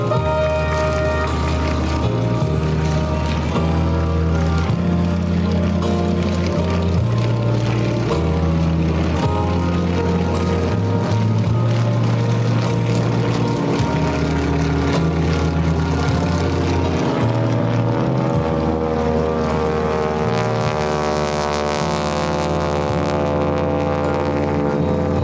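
Loud droning propeller engines of several Stearman biplanes roar past continuously at an airshow, the pitch shifting as they fly by.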